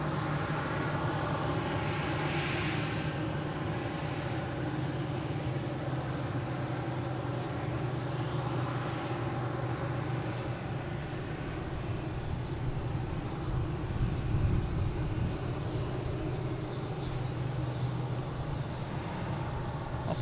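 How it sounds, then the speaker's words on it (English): A United Airlines airliner arriving at Boston Logan from Dulles, its steady engine drone holding loud and constant throughout, with low tonal hum and broad roar and no talk. "Next to arrive, we have a United Airlines coming in from Dulles."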